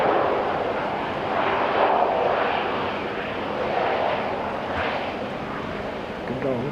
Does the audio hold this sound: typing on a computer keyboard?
no